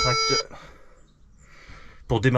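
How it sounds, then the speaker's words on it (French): A tractor's seeding control box gives a harsh electronic beep in a short tonal burst, then falls silent before a second buzzing burst, with no talk over it. "il vient de se rallumer parce que c'est pas normal que ça fasse un bip comme ça"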